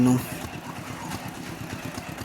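A 7.5 HP auto-rickshaw engine mounted on a farm mini tractor runs with a low, rhythmic chugging pulse under a man's speech.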